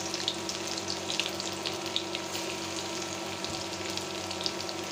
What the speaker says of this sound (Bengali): পেঁয়াজ গোল্ডেন ব্রাউন করে ভেজে নিলাম।